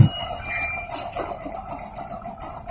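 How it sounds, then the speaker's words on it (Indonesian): A Yamaha Mio scooter engine idles steadily up close with its exhaust pipe blocked off, a continuous smooth hum with a faint whine and no rattling or knocking, alone throughout. "Nah ini suara posisi knalpot ditutup"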